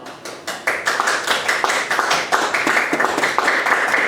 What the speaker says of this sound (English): You don't have to clap for that.